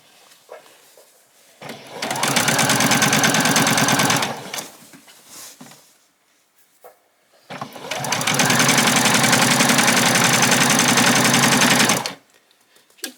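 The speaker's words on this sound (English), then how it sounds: "Do a back stitch." A sewing machine runs a back stitch along an apron seam in two long steady bursts, each lasting a few seconds, with a short pause between them and quiet handling sounds around.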